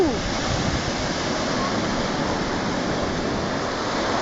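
Sea waves washing onto the seashore, a loud, continuous broad roar of surf with wind across the microphone.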